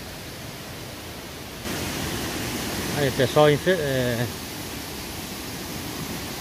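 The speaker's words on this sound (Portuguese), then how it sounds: "acabamos de chegar aqui no pé da cachoeira do Curuá" Steady broadband roar of the Curuá waterfall in Altamira, Pará, heard from its base, a constant hiss throughout with someone briefly speaking over it partway through.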